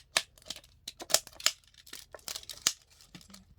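Scissors snipping through a plastic PET bottle, a series of sharp crackling cuts and crinkles at irregular intervals, close and fairly quiet.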